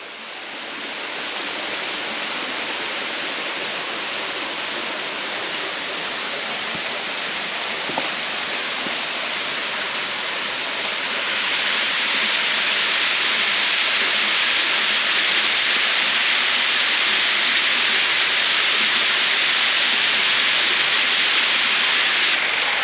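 Falling water thunders continuously at the Dajianshan waterfall in Xizhi, a four-to-five-storey cascade beside a steep mountain path. The close, dense rush grows brighter and louder about halfway through and carries on unbroken, with no voices.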